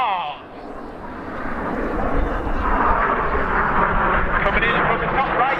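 Aircraft of the Synchro display team fly past at Old Buckenham Airshow, a distant engine drone swelling into a louder roar, with an announcer talking over it.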